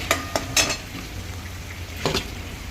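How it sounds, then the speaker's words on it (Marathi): Garlic and cumin seeds frying in oil in a pan, a low steady sizzle with a few sharp clinks of a spoon against the pan, close and without talk. "चला आता हा लसूण परतवून घेऊया आधी चला लसूण बघा छान परतवत आलेला आहे त्याच्यात आपण थोडंसं जिरं टाकून घेऊया"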